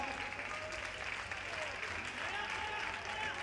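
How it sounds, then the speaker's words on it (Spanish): Spectators clap steadily at an indoor athletics championship, a dense sustained patter of applause filling the hall, with faint crowd murmur beneath. "A ver esas palmas, vanos animando a estes atletas"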